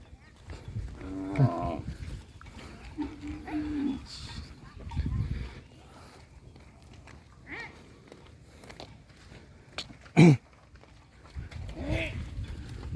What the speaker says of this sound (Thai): ดูบรรยากาศบ้านๆครับ ปล่อย วัว